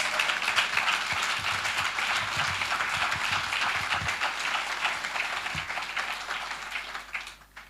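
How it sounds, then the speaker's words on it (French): A church congregation at an evangelical conference claps as an offering to Jesus, sustained loud applause that gradually thins and fades near the end. "Clap offering to Jesus."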